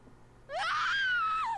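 A Viking character in the role-playing game Dragon Quest XI lets out a single loud, rising scream that holds for about a second and then drops off, sudden and close after near silence.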